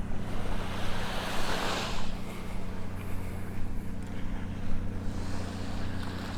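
Ocean surf rolls onto Vanderbilt Beach in North Naples, Florida, a continuous broad wash with one swelling wave, partly buried under gusty wind rumble against the microphone.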